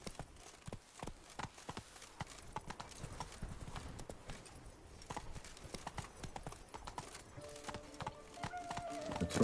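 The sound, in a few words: horse hooves clip-clopping in a video game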